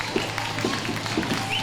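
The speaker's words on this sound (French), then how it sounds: "Applaudissements pour Elio." Crowd applause and clapping at a youth U14 freestyle competition, a steady wash of hands under an announcer's voice.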